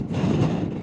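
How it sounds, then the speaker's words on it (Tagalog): Strong wind roars over the microphone while riding a Yamaha Xmax v3 scooter on a mountain road, a steady broadband rush with no talking. "Ang lakas ng hangin"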